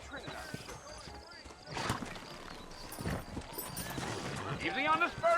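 Horses in the Red Dead Redemption video game clop their hooves steadily and let out a loud whinny, with someone talking over the hoofbeats and other game sounds.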